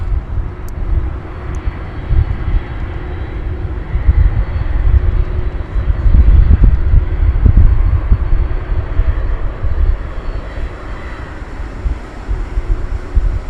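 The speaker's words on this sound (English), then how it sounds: "So we'll start the night with a couple of jumbos for you. Super jumbos." Jumbo jet airliner on the runway at DFW Airport at night, a broad low engine roar that holds steady throughout and swells briefly near the middle, with some wind rumble mixed in.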